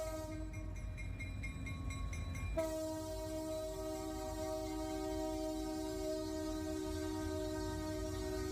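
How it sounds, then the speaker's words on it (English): A train in SnowRunner grinds around a tight corner, steel on rails giving off a sustained high metallic squeal with steady tonal whines over a continuous low rumble, loud and close throughout with no talking. "that screeching sound was just the sound of a train going around a tight corner"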